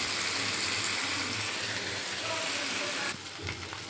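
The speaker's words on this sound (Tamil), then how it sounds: "ஒவ்வொரு மீனாக வச்சு பொரிப்போம்." Marinated fish pieces frying in hot oil with a steady, loud broadband sizzle, dropping abruptly quieter near the end as the crackle settles.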